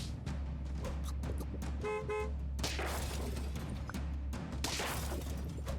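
A bus horn honks in the Super Auto Pets video game, one short tonal toot partway through, set against a busy layer of game effects and background music.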